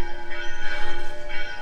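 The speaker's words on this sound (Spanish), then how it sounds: "De nuevo podéis escuchar el sonido de las campanas. Están tocando." Church bells ring continuously in a town street beside a low river, a steady metallic toll sustained across the moment at moderate distance, with no talk over it.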